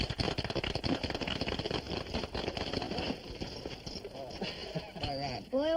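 A ridden horse gives rapid clip-clopping hoofbeats in a Western setting, with voices shouting over them before the hooves fade under talk toward the end.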